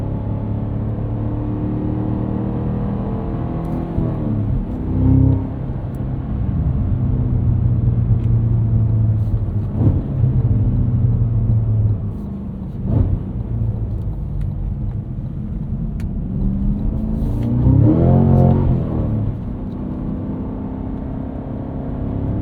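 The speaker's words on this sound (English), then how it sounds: "Sorry for the unnecessary downshifting." A 2024 Cadillac CT5-V Blackwing supercharged V8 sedan on a backroad, running on snow tires, rumbles steadily as it downshifts, with two sharp rev blips rising out of the deep exhaust drone.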